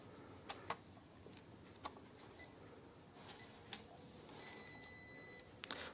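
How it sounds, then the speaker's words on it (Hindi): A lithium battery balancer beeps faintly as it is connected: a few short, quiet bleeps, then one longer steady tone near the end, against a low background hiss. "2 बार सिंगल बीप करेगा, एक बार थोड़ा लंबा बीप करेगा, टोटल 3 बीप्स करेगा"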